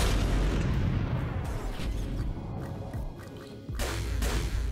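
Weapon fire and explosions in the space-combat video game Trigon: Space Story, with a ship firing at enemy shields: a continuous loud, deep rumble broken by heavy booming bursts, one of which strikes again near the end.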